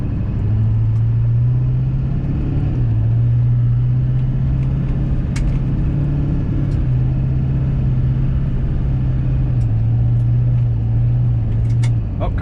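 A Feiyue FY07 4WD RC truck runs flat out along a private drive, its electric motor a steady, loud whine holding one pitch with a brief dip, over constant rumbling tyre and road noise.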